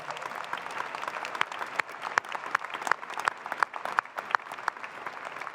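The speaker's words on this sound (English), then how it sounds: "Let's give them a big round of applause as well." Applause fills a university commencement hall as the graduates' families are honored, a broad, steady crowd clapping with a few sharper, evenly spaced claps standing out nearby.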